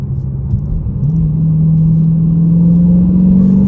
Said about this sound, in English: This car sounds really, really good